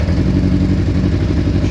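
A Suzuki Bandit 600 motorcycle, under crash repair, running on choke just after starting: a loud, close, steady low engine drone with a slightly rough, uneven beat and no talk over it.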